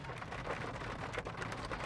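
Rain mixed with snow falls in Colorado, making a steady, dense patter and hiss close by with no voices.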